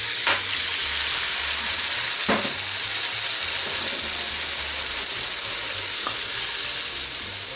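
Onions fry in a hot pan as soy sauce is added, giving a loud, steady sizzle throughout with a few brief stirring scrapes and no talking.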